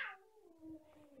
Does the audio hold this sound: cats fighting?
yes